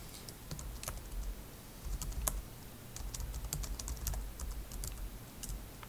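Someone types a name and location into a computer keyboard, producing quick, irregular clicky keystrokes in bursts with short pauses between them. The sound is close and fairly quiet, with no talking.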